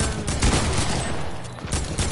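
Video game gunfire rattles in a rapid, dense burst of loud shots with heavy low rumble, continuing steadily with no clear gaps between reports.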